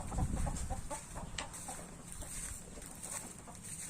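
Chickens clucking near a fish pond on a small Thai farm, several short repeated clucks and calls, fairly close, over faint background noise with no talking.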